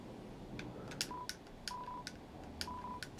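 Telephone receiver garbage noise in the video game Deltarune, a rhythmic run of short electronic tone bursts and beeps at a steady pulse over a low hum, faint.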